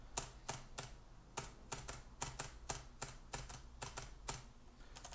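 A computer keyboard's space bar pressed over and over, a steady series of sharp, quiet clicks about twice a second, close by in a hushed room with no talk.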